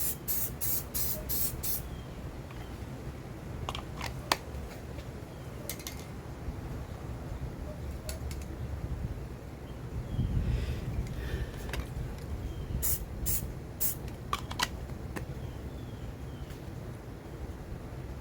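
Short hissing bursts of an aerosol spray can painting a rifle scrim, repeated in quick pulses with pauses between, close up over a quiet background.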